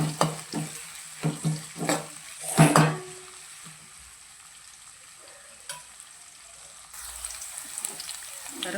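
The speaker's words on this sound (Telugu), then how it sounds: "పచ్చిమిరపకాయలు కట్ చేసుకొని వేసుకోవాలి. వేసుకొని కలుపుకోవాలి." Chopped green chillies stirred into a potato fry in a pan, with several sharp scraping strokes of a spoon close up, then a quieter low sizzle with occasional light clinks.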